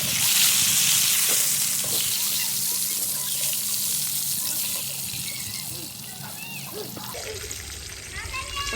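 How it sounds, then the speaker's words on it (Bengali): Sliced pointed gourd hits hot oil in a pan, a loud sizzling hiss that is strongest at first and gradually settles into a softer, steady frying crackle. "এবার কেটে রাখা পটলগুলো দিয়ে দেবো।"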